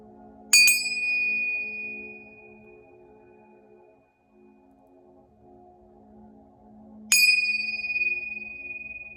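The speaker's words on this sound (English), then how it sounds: "I'm going to ring this bell just to cleanse the space." A bright bell struck twice, each ring sustaining and slowly fading, over a soft low background hum.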